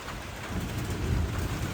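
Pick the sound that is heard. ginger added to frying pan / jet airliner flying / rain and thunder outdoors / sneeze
rain and thunder outdoors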